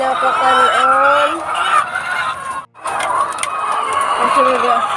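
Many chickens cluck and squawk loudly up close in a busy chorus, with people talking over them and a brief cut partway through.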